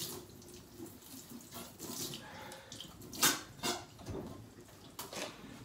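Tap water runs and splashes while brewing equipment is rinsed at a small home brewery, the flow coming in uneven close bursts and swells with a few sharper splashes.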